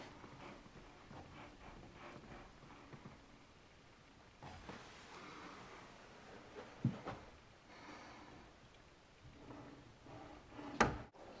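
A house door rubbing and scraping against its frame as it is pushed shut, a low, drawn-out friction sound with a couple of sharper knocks, fairly quiet and with no talk.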